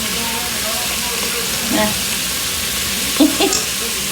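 Minced garlic sizzles in a pot of oil as the base for a beef stew, a steady close hiss with a couple of brief clinks or stirring bumps near the end and no talking.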